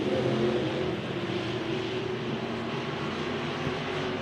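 Race cars on a dirt track running side by side down the backstretch, a steady, loud roar of engines sustained throughout without a break.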